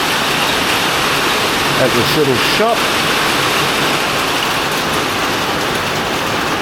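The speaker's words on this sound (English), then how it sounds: "The rain has arrived." Tropical rain pours steadily in Vietnam near a small shop, a constant hissing wash of noise while someone talks briefly over it.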